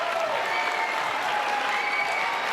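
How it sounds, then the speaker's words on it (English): Basketball fans at a high school boys' game between East St. Louis and Teutopolis stand and cheer their team on, a steady, dense roar of crowd noise and applause filling the gym without a break. "T-Town fans are on their feet, urging their team on"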